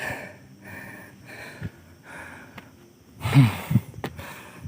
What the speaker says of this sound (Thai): หอบจริงๆนะครับ